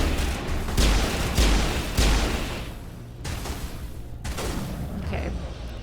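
Gunfire in the Mass Effect video game: several loud, sharp shots spaced about a second apart, each with a booming tail, followed by a quieter stretch and a few more distant bursts.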